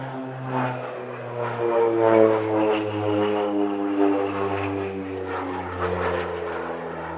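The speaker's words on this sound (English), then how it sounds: "They also operate a short Skyvan as a support aircraft and as a display aeroplane in its own right." Short Skyvan propeller aircraft flying an airshow display, its turboprop drone loud and steady with a strong low hum, shifting gradually in pitch as it passes, with no talking.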